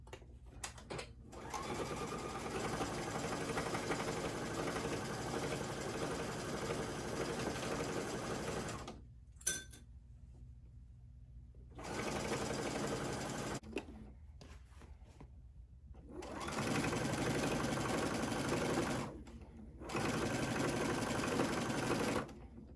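A sewing machine stitching through a bulky pleated pillow, running in several long bursts of steady, close mechanical whirring, each separated by brief stops and silence.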